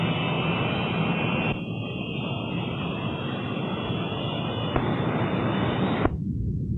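Boeing B-47 jet bomber engines roar steadily on the takeoff roll, a constant, dense, close rush of jet noise that holds for several seconds before cutting off abruptly near the end.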